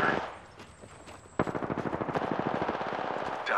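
Rapid automatic gunfire in a DMZ or Apex match, a long sustained burst of evenly spaced shots following a quieter stretch of scattered shots and movement, loud and close.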